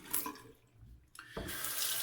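A bathroom sink tap runs to rinse trimmed goatee hairs out of the basin after a shave, with brief splashing, a short lull, then a steady, close gush of running water.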